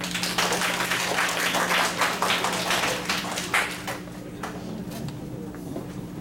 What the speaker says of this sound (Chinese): 这个方法也不错，我们给他掌声好不好？